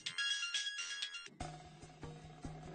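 A mobile phone ringtone plays as a steady melodic tone that cuts off partway, followed by faint rustling and low background sounds, with no one talking over it.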